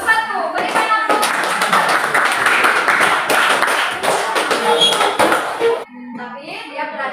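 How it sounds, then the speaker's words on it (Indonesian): A classroom group claps after a group presentation, a dense burst of applause lasting several seconds before fading, with children's voices chattering over it. "Berikan aplaus"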